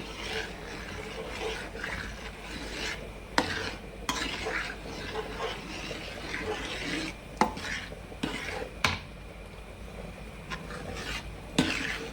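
Upma stirred in a pan on the stove, a steady close scraping and sizzling with occasional sharp clicks of the spoon against the metal, continuous and fairly quiet, no voices.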